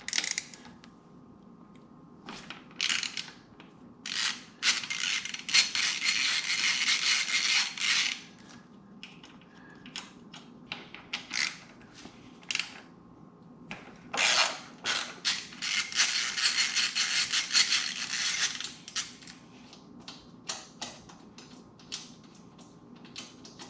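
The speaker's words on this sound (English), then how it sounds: "So let me take these bolts out and put that on." A hand ratchet backs bolts out of a 2020 Yamaha Tracer 900 GT during a crash bar install, with bursts of rapid close pawl clicking separated by pauses and small metallic handling noises.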